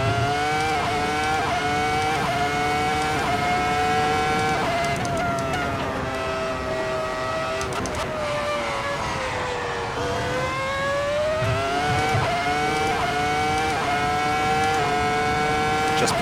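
A V10 Formula 1 race car engine screams at high pitch, loud and steady throughout, with its tone rising through the gears and dropping briefly at a couple of shifts.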